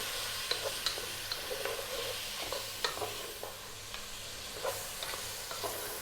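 Celery, onion and carrots sautéing in a pan just above medium heat as the base of a lamb stew, a soft, continuous sizzle dotted with light stirring clicks, no talking.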